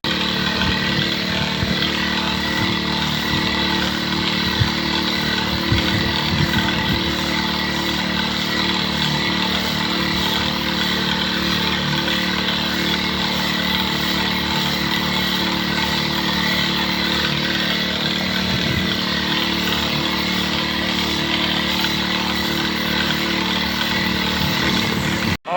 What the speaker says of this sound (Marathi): पेट्रोल पंपाचा बटन खराब झाला आहे, पेट्रोल पंप बंद नाही होते, तर तो असा चालू ठेवून द्यावा लागेल